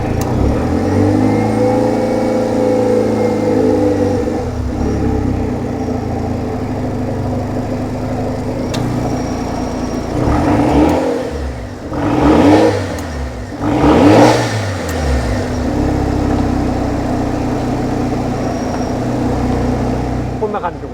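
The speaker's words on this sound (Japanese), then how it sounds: "ちょっとじゃあエンジンかけてみましょうかね。" A Mazda RX-7 FD3S Type R Bathurst R, a tuned car with a rotary engine, idles with a steady buzzing drone and then gives several sharp revs that rise and fall, loud and close, with voices in the background.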